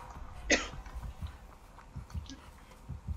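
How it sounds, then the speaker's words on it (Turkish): A single short cough bursts out near the start over quiet background game noise with low thumps, fairly faint overall. "Öksürük tut da."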